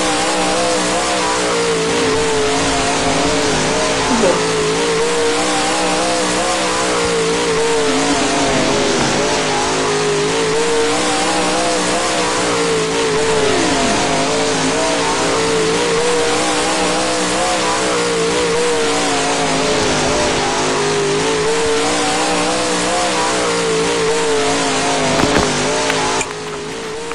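Super late model dirt race car engine in the racing game Dirt Trackin, a loud, steady droning rev that runs continuously from an outside view, with no talking.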